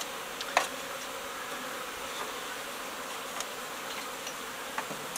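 A steady, dense buzz of many honey bees droning together in a barn hive, close by, with occasional faint clicks and knocks as they crawl on the frames.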